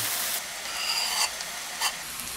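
Garlic sizzles in a pan with softened onion and pepper, a steady close hiss of sautéing with a couple of brief stirring scrapes and no talking.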